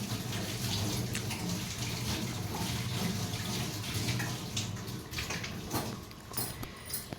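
Tap water runs steadily and fairly loudly while a vegetable is rinsed under it in a home kitchen sink, a continuous splashing hiss throughout with no talking.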